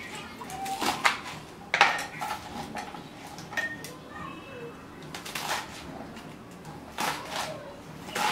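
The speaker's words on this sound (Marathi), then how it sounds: "आता ही आंबट चुक्याची भाजी पण थोडीशी चिरून घालायची आहे" A knife chops sour chuka greens on a board for a taro leaf curry, giving irregular sharp taps with pauses between them, with faint kitchen clatter and birdsong in the background.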